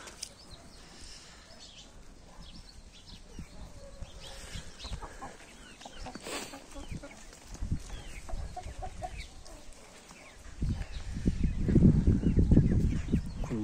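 Farmyard chickens cluck and call repeatedly at close range, the clucking growing louder and busier toward the end over a low outdoor background.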